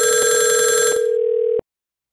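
A LinPhone softphone rings while dialing extension 12 on a FreePBX system. One steady electronic ringback tone with a fast warble plays loud and close, then cuts off abruptly into silence.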